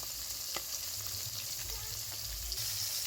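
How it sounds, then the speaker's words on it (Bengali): Fish sizzling steadily in hot mustard oil in a kadai, a continuous close, dense frying hiss with occasional crackles and light stirring taps, no voices. "ভালো করে ভেজে নিচ্ছে। তেল ব্যবহার করছি ইঞ্জিন সর্ষের তেল।"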